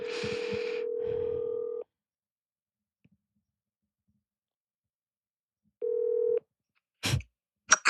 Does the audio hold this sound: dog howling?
no